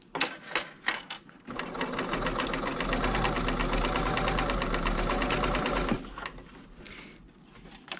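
A sewing machine fitted with a piping foot stitches a zipper seam in one steady run of fast needle pulses lasting several seconds, with brief handling noises of the fabric before and after the run.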